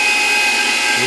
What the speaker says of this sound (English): Turn the vacuum on, drop the tray, and let it run.